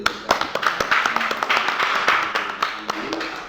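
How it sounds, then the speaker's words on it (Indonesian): A crowd at a gathering in Gorontalo, Indonesia claps in an irregular patter of many hands, loud and close, with a faint voice now and then underneath. "Oke, tepuk tangan dulu sekali lagi."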